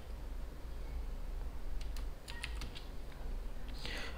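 Typing on a computer keyboard comes as a few soft, scattered keystroke clicks in a short run, faint over quiet room hiss.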